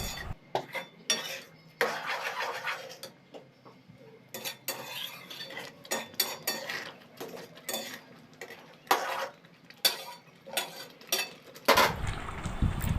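Utensil scraping and clinking against a pan while banana stem curry with kasuri methi and garam masala is stirred, in irregular close bursts of metal contact with faint bubbling liquid underneath.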